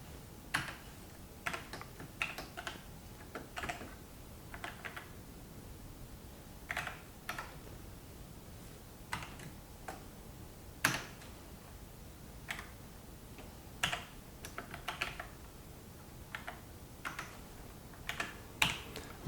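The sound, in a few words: typing on computer keyboard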